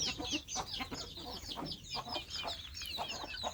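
A flock of chickens clucks busily while being fed grain, with many soft overlapping clucks and chirps close by and a few louder calls rising above the chatter.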